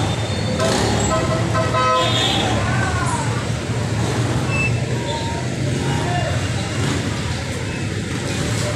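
Busy road traffic beside a large market in the Philippines, with several short car horn toots early on over a constant hum of passing cars and vehicles, while people talk in the background.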